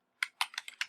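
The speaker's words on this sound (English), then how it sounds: "I typed in team, casual," Five quick keystroke bursts on a computer keyboard while a search term is entered, close and fairly quiet, in an uneven rhythm with no talking.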